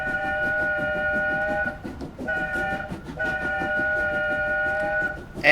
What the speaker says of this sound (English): X is the whistle for this one.